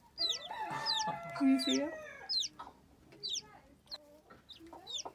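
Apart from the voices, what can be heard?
chickens clucking, hen with baby chicks on a farm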